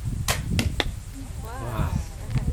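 A crossbow fires outdoors at a Florida gun show, with a few sharp, brief snaps and thwacks. Voices talk briefly in the background, and a faint wind noise sits underneath.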